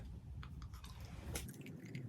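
Doublemint gum chewed close to the mic, soft wet squishing and smacking in a loose rhythm over a low background rumble.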